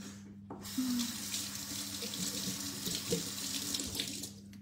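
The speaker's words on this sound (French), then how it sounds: "Je vais aller me rincer les mains" A kitchen tap runs in a steady splashing stream as hands are rinsed under it, with water spattering into the sink at close range and no voices.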